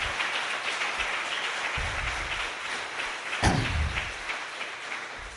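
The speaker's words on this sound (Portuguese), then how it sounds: "Glorifica a Deus com palmas" A church congregation claps together during a Portuguese-language sermon, a dense steady patter of hands filling the room, with a brief louder thump partway through.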